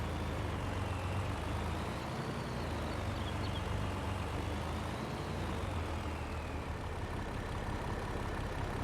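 A truck loaded with wood drones steadily over a bumpy road on the Holmakra map in Farming Simulator, its engine a continuous close rumble with no pauses.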